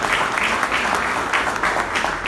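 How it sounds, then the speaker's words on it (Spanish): A church congregation claps for the Lord in a steady, dense burst of applause, fairly loud and close throughout, with no one speaking over it. "Denle un aplauso fuerte al"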